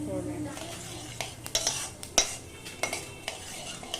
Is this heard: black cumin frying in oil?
yes